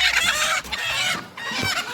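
Desi village hens cluck and murmur softly at close range, a steady fowl chatter with a brief dip midway.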